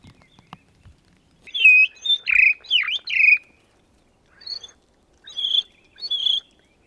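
Thrushes singing outdoors, a few bright, clear chirps and whistled phrases in two short bursts separated by a pause, fairly close, with faint rustling before the calls and no talking.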